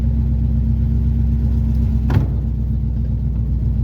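A 1971 Plymouth Satellite wagon on its first drive, its engine giving a steady low rumble close by, with one brief knock partway through and no talking.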